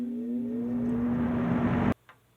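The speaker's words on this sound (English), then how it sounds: "I will treat you to the motor startup sound" A Lakewood 1980s S-223 20-inch box fan motor spinning up with a rising whir and steady hum that climbs in pitch, then cuts off abruptly with a click near the end, loud and close.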